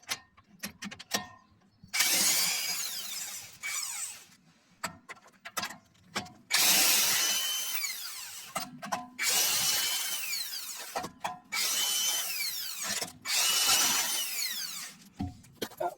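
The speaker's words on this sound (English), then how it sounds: "I am using an electric impact gun" Electric impact gun rattling lug nuts off the rear wheel of a 2021 BMW 430i xDrive, loud close bursts of hammering whir, several in a row separated by short pauses and clicks.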